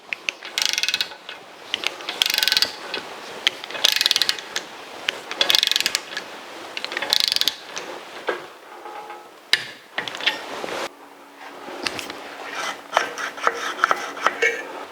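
Ratcheting torque wrench tightening exhaust bolts on a 1982 Jeep CJ7, loud close rhythmic bursts of ratchet clicks separated by short pauses, with a few lighter clicks toward the end.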